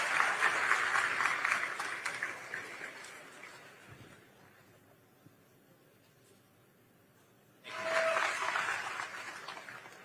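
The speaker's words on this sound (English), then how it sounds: "Give Liam a round of applause, folks, for being brave and asking a tough question." An audience at a Turning Point USA event in Ohio applauds, fading out after about four seconds, leaving a quiet room with a low murmur before a second burst of clapping starts near eight seconds.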